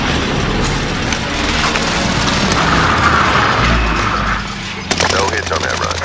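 An airstrike in Call of Duty Modern Warfare sets off a sustained roar of blasts and crackling debris that swells and fades, then a sharper burst of impacts near the end, under game radio chatter.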